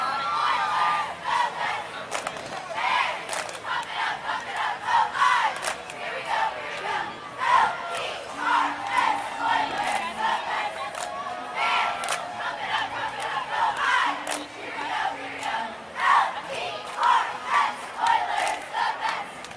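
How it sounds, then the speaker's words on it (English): Cheerleaders shout a rhythmic chant at a Fourth of July parade in Huntington Beach, California, their voices rising and falling in repeated bursts with crowd noise around them throughout. "Come on, cheerleaders, let's see a cheer."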